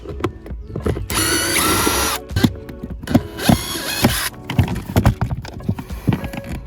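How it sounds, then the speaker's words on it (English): Removing T20 screws from a car's cabin air filter cover: bursts of whirring power driver buzz alternate with clicking, clattering handling noises, close and fairly loud. "there are going to be two T20 screws that you have to remove"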